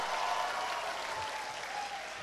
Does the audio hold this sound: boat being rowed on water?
no